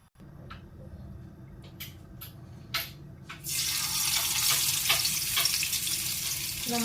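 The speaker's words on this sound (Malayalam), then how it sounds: "എണ്ണ നല്ലപോലെ ചൂടായിട്ടുണ്ടെങ്കിൽ നമുക്ക് ചെമ്മീൻ ഓരോന്നായിട്ട് ഇട്ട് കൊടുക്കാം" Prawns go one by one into hot oil in a pan, giving several sharp crackles at first, then a loud, steady sizzle of frying that keeps rolling on with no talk.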